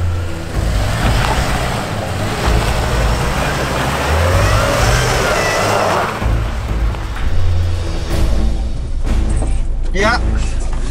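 Modded Jeep Wrangler without traction control grinding off-road through rutted ground, a loud continuous engine drone with surging revs and rumbling throughout, plus rattling and clunks near the end.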